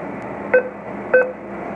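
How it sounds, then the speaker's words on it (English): Two short electronic tones from an ATM keypad sound about half a second apart during PIN entry, over a steady background hum. "if you listen to the beeps very closely, you know what's my PIN number"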